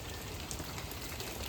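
Steady rain falls outside a home on the morning before Hurricane Helene, a continuous even hiss of drops on surfaces with no voices.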